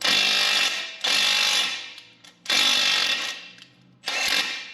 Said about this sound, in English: just use my impact to zip it on before I go ahead and torque it on there